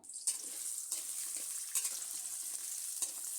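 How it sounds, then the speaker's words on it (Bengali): Chopped onion frying in oil for a lentil dal, a steady close hiss of sizzling with a few sharper crackles and stirring scrapes, no voices over it. "এই পেঁয়াজ কুচি তেলের সাথে কিছুক্ষণ ভেজে নেব আমি"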